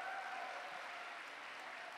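A faint, distant wash of audience applause for a team at a church Christmas festival and end-of-term celebration, steady and even over two seconds.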